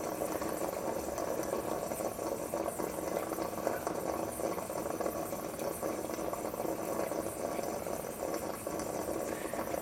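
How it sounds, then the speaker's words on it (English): A budget household espresso machine heats water into steam with a continuous bubbling, rattling hiss, steady and fairly loud, with no talking. "then you turn it into steam, and you let it heating until there's no heating"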